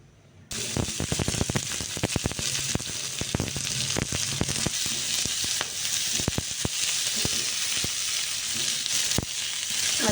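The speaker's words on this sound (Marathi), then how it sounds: "तव्यामध्ये थोडं तेल टाकलं आणि आता याला कांदा टोमॅटो थोडं हलकं भाजून घेणार" Loud, steady sizzling of onion and tomato frying in hot oil on a griddle, with crackles and pops scattered throughout, close up and continuous.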